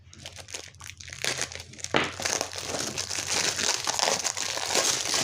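Crinkly plastic wrapper of a diamond painting kit being opened up close, a continuous loud rustling and crackling that builds steadily with sharper tears and crunches along the way, no voices.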